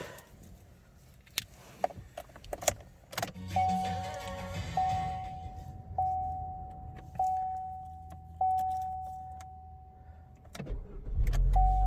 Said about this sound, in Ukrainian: Автомобіль заводиться без проблем.